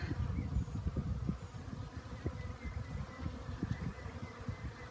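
A swarm of bees hums in a dense, continuous low buzz outdoors, fairly faint and steady with slight fluctuations and no voices.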